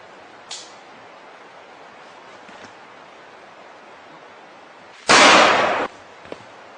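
A single loud gunshot sound effect, a sharp blast that rings out for under a second, preceded by a faint click and followed by a small tap in quiet surroundings.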